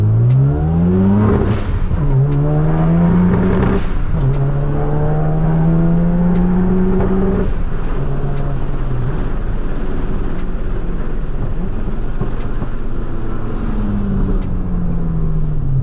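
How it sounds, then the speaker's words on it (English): Rotary-engine car driving and revving hard, its engine tone climbing repeatedly and stuttering as it hits boost cut, loud and continuous throughout with no talking. "Man, I'm hitting boost cuts so bad."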